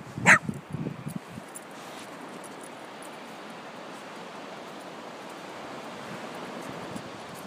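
Dogs chase a ball on a beach, with a few close barks and yelps in the first second followed by steady, soft surf washing in the background.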